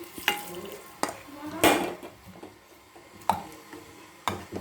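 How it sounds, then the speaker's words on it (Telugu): Hot tempering hits fenugreek-leaf dal with a sharp sizzling burst, among several metal clinks and spoon knocks against a pot. "ఇప్పుడు ఆ పోపు తీసుకొని పప్పులో వేసుకుందాం."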